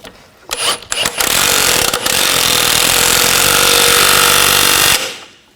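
A power tool rattles loudly and continuously for about three seconds while tightening the nut on a rear shock of a 2000–2006 BMW X5, preceded by a few short bursts.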